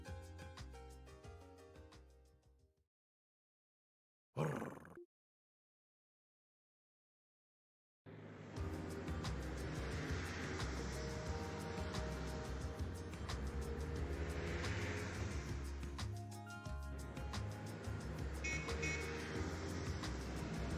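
Orbal car engine in the Trails to Azure video game: after a few seconds of music and a short burst, a steady loud engine drone starts and runs on without a break, with no talk.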